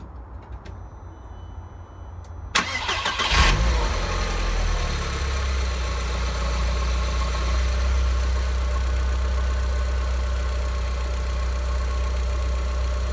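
VW Golf Mk4 GTI engine cranking briefly, catching at about two and a half seconds, then settling into a steady, close, even idle hum for the rest of the clip.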